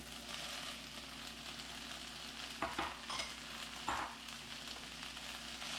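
Mushrooms, peas and spinach frying in a pan make a steady, soft sizzle, broken by a couple of scraping stirs midway, heard alone without any talk.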